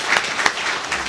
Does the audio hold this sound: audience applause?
yes